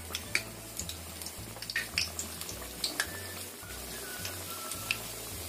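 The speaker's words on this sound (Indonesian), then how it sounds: "Kita goreng sampai kering." Snacks frying in hot oil in a home kitchen, a steady soft sizzle underneath with light clinks and scrapes from stirring and turning, plus a low mechanical hum pulsing in the background.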